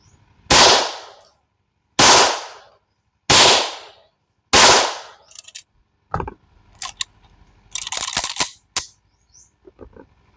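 Four loud, evenly spaced gunshots from test-fired reloads loaded with Narbonne powder, each with a ringing decay, followed by sharp clicks and metallic clatter of handling the firearm.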